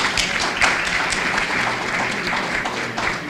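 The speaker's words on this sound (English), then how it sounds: "Can we give him another round of applause?" Audience applause for the President of the Senate at a lawyers' spring meeting, a sustained dense roar of many hands clapping in a hall, even and moderately loud with no speech over it.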